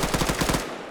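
Rapid automatic gunfire in a PvP match from an OFCRA military sim operation rattles off as a fast, steady burst of about eight loud, close shots, then cuts to quiet.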